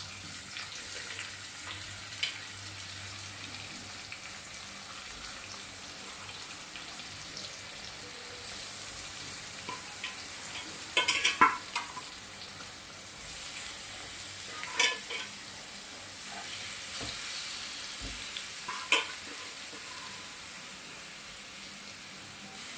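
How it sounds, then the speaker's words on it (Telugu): A second batch of chicken frying in oil in a pan, with a continuous close sizzle, occasional scraping and stirring clatter, and a few louder pops and crackles. "సో ఇప్పుడు నేను సెకండ్ బ్యాచ్ చికెన్ కూడా యాడ్ చేసేస్తున్నానండి"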